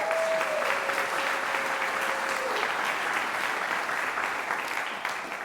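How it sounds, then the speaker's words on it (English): Sustained applause from a conference general session audience, steady and full, with a faint tone fading out early on. "give him some applause"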